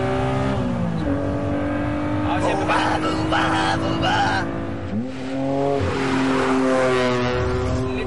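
A Honda NSX on a track revs hard through rising and falling gear pulls as its tires squeal, loud and close, while a voice speaks briefly over the engine.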